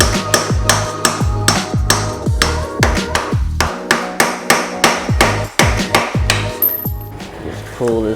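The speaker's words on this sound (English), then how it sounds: "Might need a little love tap from the screwdriver and the hammer." A hammer taps a screwdriver against a link of a motorcycle chain on a Yamaha FZ-07/MT-07, about twenty sharp metallic strikes in steady rhythm, close and loud with no speech.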